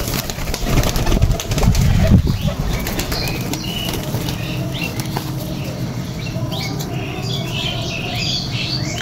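Local domestic pigeons at a home loft flutter and call: wing flaps and squawking pigeon calls come in bursts, busiest near the start, over a steady background, with no talk.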